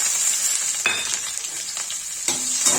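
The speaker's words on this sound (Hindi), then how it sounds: "दाल का तड़का बना रहे, इसमें डालेंगे। देखिए गाइस इसमें जीरा डाल दिया प्याज" Cumin seeds and onion fry with a steady loud sizzle in oil for a dal tadka, with two sharp stirring scrapes of a spoon against the pan breaking through the hiss.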